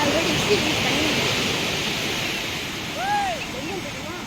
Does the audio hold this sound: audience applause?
no